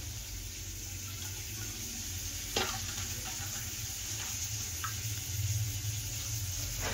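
Masoor lentil dal being tempered in hot oil gives a steady close sizzle and frying hiss throughout, with a sharp crackle and a few brief spatters or stirring clinks over it.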